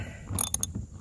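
Ratchet driving a bolt into the underside fitting of a Tesla Model 3 mud flap splash guard, a short burst of a few quick mechanical clicks heard close and alone.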